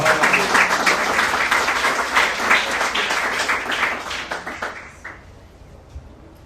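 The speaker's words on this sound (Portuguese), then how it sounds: "Se você crer, aplauda o Senhor mais uma vez." A church congregation gives dense, loud applause that holds steady and then thins out to a few scattered claps before fading.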